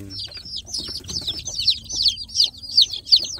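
Growing free-range kampung chicks clucking and cheeping close by, a steady run of short high chirps repeating at a quick, even rhythm with no talk over them.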